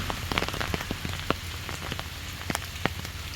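Rain falls on a mountain as an approaching typhoon arrives, a steady soft patter with scattered sharper drops striking nearby surfaces, fairly faint overall.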